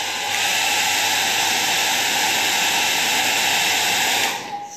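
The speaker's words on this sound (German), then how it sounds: "So, ich werde nochmal föhnen." A hair dryer blows steadily at close range, a loud even rush of air that holds for about four seconds before switching off at the end, with no talking over it.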